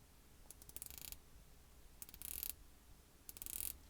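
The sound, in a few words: rotating Christopher Ward C60 dive watch bezel ratcheting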